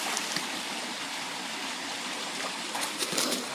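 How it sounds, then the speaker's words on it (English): A creek flows steadily with a continuous close rush and babble of water, holding an even level throughout with no one speaking. "I'm going to show you what the creek looks like."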